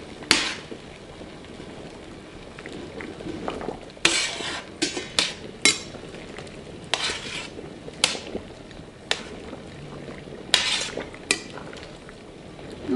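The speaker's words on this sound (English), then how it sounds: "Okay, and we'll stir that a little bit." Spaghetti with shrimp is stirred in a cooking pot, with scattered clinks and scrapes of a utensil against metal, fairly close but soft, over a faint low background.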